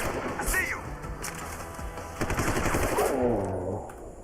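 Automatic gunfire in the video game Deus Ex: Human Revolution, sustained bursts of shots rattling loudly through a dense mix of game sound and effects.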